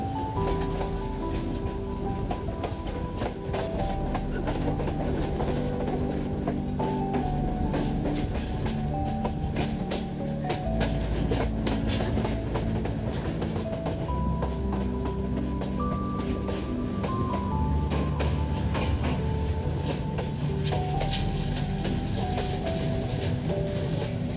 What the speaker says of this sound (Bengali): ট্রেনটি সাব রেল লাইন থেকে মেন রেল লাইনে উঠে এখন চলা শুরু করবে